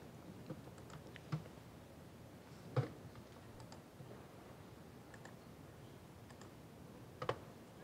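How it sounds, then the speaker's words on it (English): Faint, sparse clicks from a retail point-of-sale presentation setup, scattered irregularly over several quiet seconds with a few slightly sharper taps and no talking. "Clicking."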